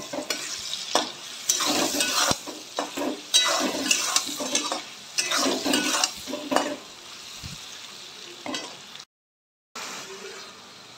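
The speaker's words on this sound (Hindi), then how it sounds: "मसाले के साथ बहुत अच्छे से फ्राई कर रहे हैं पोटैटो को" Potatoes frying with spices in a pan, repeated bursts of stirring and scraping over a sizzling background, close and rhythmic, pausing briefly near the end.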